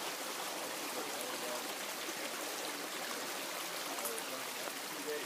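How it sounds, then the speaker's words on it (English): A creek flows beneath a deck at a rural property, a constant close rushing and trickling wash that fills the whole clip without a break. "here's upstream with the deck over the creek."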